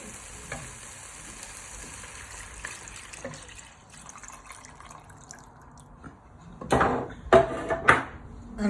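Stock poured into a pan of prawn and chorizo risotto, a quiet sizzle with scattered stirring taps that swells into a louder hiss and bubbling splash near the end.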